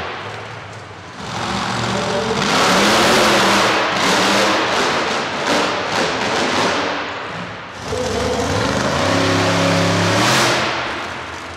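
A monster truck engine roars and revs hard on a concrete track at a car-crushing nationals event, two long loud bursts with a dip between them.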